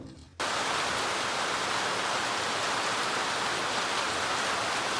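Heavy rain pours down in a steady, dense hiss that starts abruptly after a brief quiet moment and stays loud and unbroken to the end.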